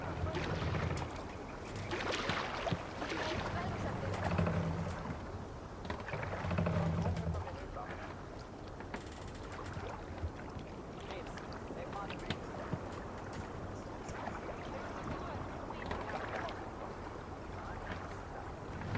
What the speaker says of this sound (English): We need to row our way out.